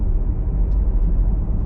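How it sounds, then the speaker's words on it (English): Audi Q3, a big heavy SUV, driving through Marbella, with a steady low engine rumble and road noise that hold throughout at a loud, close level, with no talking. "it sounds like such a nice sounding car"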